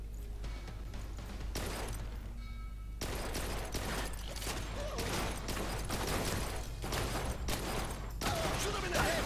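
Gunfire in the video game Blue Estate comes in dense rapid bursts of sharp shots separated by short pauses, moderately loud, with faint voices mixed in.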